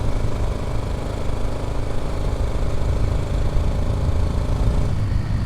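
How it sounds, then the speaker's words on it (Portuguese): A 1988 Yamaha Ténéré motorcycle runs with a steady, rough engine drone while riding a potholed dirt road on the Transamazônica, loud and close with jolting rattles. "Parece que a moto vai desmontar inteira."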